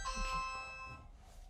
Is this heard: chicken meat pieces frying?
no